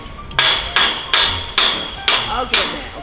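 A hammer strikes a steel scaffolding post on a construction site, six sharp metallic blows at an even pace about half a second apart, each ringing briefly, with no talk.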